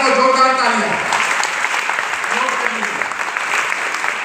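Loud applause fills a meeting hall, starting under a voice and then carrying on as steady, dense clapping to the end.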